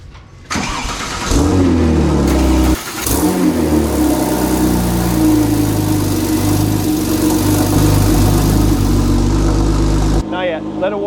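A custom-exhaust Porsche 997 911 Turbo fires up with a loud, close start, then settles into a steady rumbling idle with a brief blip of revving early on before cutting off near the end.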